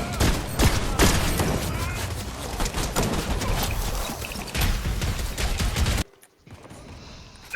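Rapid gunfire from a video game weapon rattles in dense bursts for about six seconds, loud and continuous, then cuts out abruptly into quieter game noise, with players talking over it.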